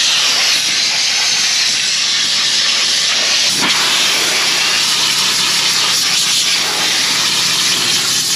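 Compressed air blasting debris off the radiator of harvest equipment during maintenance: a loud, steady, close hiss runs the whole time, with one brief sharp crack partway through.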